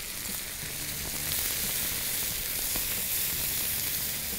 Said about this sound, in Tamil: இந்த கோவக்காவை போட்டு இதை நல்லா ரோஸ்ட் பண்ணுங்கள்